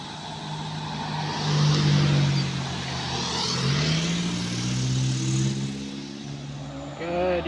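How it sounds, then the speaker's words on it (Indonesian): Daihatsu Grand Max pickup labouring up the steep Kedabuhan hill, its engine droning and rising in pitch under load, close and loud, with gear-shifting swells and outdoor wind noise. "Pickup Grand Max menaiki tanjakan Kedabuan."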